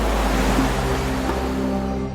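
Sea waves wash steadily along the Konkan coast in Maharashtra, a dense, loud surf roar with constant low rumble and wind, close and uninterrupted.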